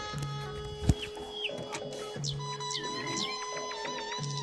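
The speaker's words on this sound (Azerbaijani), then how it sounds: "ətraf çox gözəl sakitlikdir, quşların səsi" Village birds call around a quiet countryside setting in Chapar village, Aghdara, with chicken clucks, a rooster and assorted chirps and whistles overlapping at moderate distance over a soft ambient hum.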